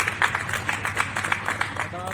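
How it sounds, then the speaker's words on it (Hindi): Audience at a poetry stage at the Lucknow book fair welcoming a poet, with light scattered clapping in an uneven rhythm and a voice heard alongside. "तालियों से उनका स्वागत होना चाहिए"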